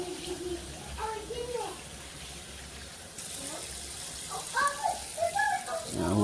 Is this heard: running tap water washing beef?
yes